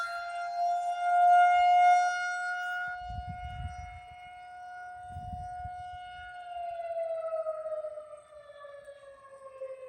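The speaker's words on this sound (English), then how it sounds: "that's the air raid siren. It goes off every day at noon." A daily noon air raid siren holds a long, steady wail, then slowly winds down in pitch, with a couple of brief low rumbles partway through.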